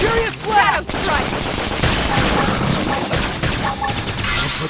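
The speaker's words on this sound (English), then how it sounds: "We can just topple them with gunfire." Continuous loud gunfire and combat effects in the Xenoblade Chronicles X Definitive Edition video game on Switch, a dense barrage of shots over battle music, with character voices shouting in the fray.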